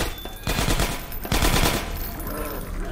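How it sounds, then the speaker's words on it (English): Automated turrets fire in Half-Life 2 Episode One, loud rapid machine-gun bursts crackling in two main volleys with a brief drop between them. "Careful, I hear turrets."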